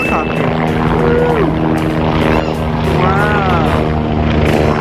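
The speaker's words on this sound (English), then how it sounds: "Oh, dude, there's a helicopter." A helicopter flies overhead outdoors, its steady droning rotor hum filling the whole stretch loudly, with voices speaking briefly over it.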